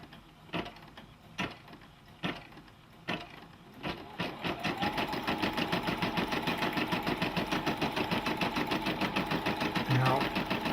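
Brother PB6800 embroidery machine: a few separate clunks at first, then a fast steady rhythmic stitching drone that runs on evenly to the end, close by.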